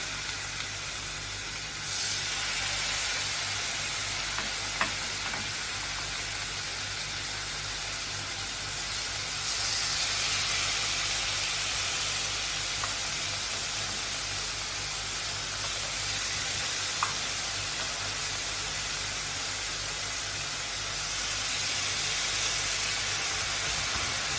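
Marinated chicken pieces sizzle steadily on a hot grill pan in a home kitchen, a loud continuous hiss and frying crackle that swells slightly as more pieces go down, with a low hum underneath.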